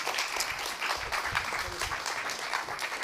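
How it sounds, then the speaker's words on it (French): Audience applause welcomes speakers at a French startup accelerator programme event, a soft, steady patter of many hands heard from a distance throughout. "Et on peut vous applaudir."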